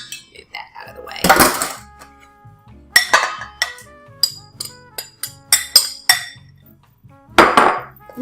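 A spoon stirs tigernut flour banana muffin batter in a bowl, giving a loose series of sharp, close clinks and taps against the bowl at uneven intervals, with a few louder scraping bursts.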